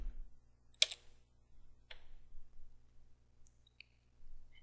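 Quiet, sparse clicks of keys on a computer keyboard while a command is typed, with a few isolated taps spread over a faint background hum.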